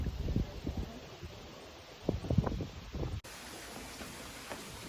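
Gusty tropical storm wind in Tagaytay buffets the microphone with low rumbling bursts and rustling, swelling and easing, then dropping to a steadier airy roar.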